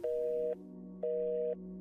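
A video-game phone line returns two identical electronic beeps, each about half a second long and separated by a short gap, clean and fairly quiet like a busy or ringing tone after dialing 911.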